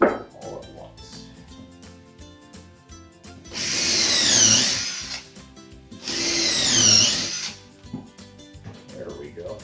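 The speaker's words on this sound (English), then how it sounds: "I'm going to drill the remaining 3." A power drill bores holes into 2x4 wood in two long whining bursts of a few seconds each, separated by quieter handling clatter.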